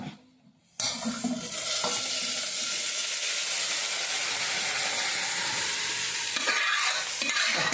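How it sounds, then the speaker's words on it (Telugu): After a brief quiet moment, hot tempering oil bursts into a loud, close sizzle as it is added to dal, hissing steadily, with occasional stirring sounds. "ఇదిగో తాలింపు ఇప్పుడు ఇందులో అయితే ఇది వేసేస్తున్నాను"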